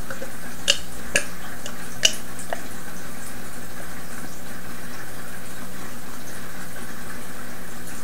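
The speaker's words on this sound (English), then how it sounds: "So let's give her a pour." Dutchies Original Old Ruby Ale, a 5% ABV beer, pours into a glass with a steady, soft liquid trickle and fizz, broken by a few sharp glassy clicks early on; no one speaks.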